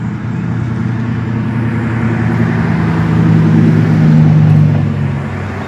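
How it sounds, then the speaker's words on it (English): Steady, loud traffic rumble from a busy street corner, with engine drone and a passing vehicle swelling louder partway through before easing off, no talking. "somebody couldn't hear me over the traffic noise"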